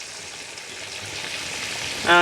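Pieces of pandugappa fish fry in hot oil for biryani, giving a steady, close sizzling hiss that swells slightly louder toward the end, with no voices.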